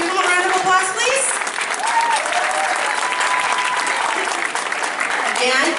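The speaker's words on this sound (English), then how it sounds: "Give them a round of applause, please." An audience at a 2016 YumaCon convention gives a sustained round of applause, loud and continuous for several seconds, while a voice speaks over the clapping.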